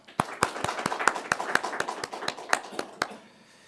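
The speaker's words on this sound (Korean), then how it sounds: "우리가 하나님께 영광의 박수를 보내겠습니다." A church congregation claps at an Easter service, a run of sharp, distinct claps at a brisk, fairly regular pace, moderately close, fading out near the end.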